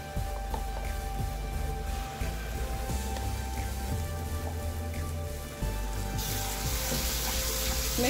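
Prepared gravy poured into fried spices for shahi paneer, hissing into a loud steady sizzle with bubbling and crackle, close and continuous, intensifying toward the end, no speech.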